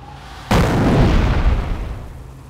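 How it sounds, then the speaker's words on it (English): Incendiary mortar barrage in Company of Heroes, a single loud close explosion bursting suddenly and rumbling as it decays over the next two seconds. "Order the mortar half-track to fire an incendiary barrage at the enemy infantry squad."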